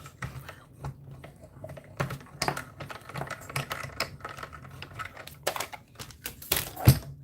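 Electronic craft cutting machine slicing through thick material, a quiet series of irregular clicking, tapping strokes close by, with no one talking.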